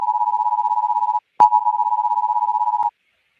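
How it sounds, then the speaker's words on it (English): A severe thunderstorm warning alert tone blares as a steady, single-pitched electronic beep. It runs in two long stretches split by a short break with sharp clicks, then cuts off into silence. "That's a severe thunderstorm warning tone you guys hear."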